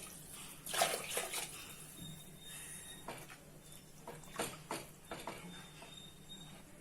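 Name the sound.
water being poured into a pot for biryani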